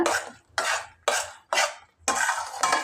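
Mango thokku being stirred and sautéed in a heavy pan, a ladle scraping in five loud, regular strokes with a faint sizzle between them, close by and with no talk.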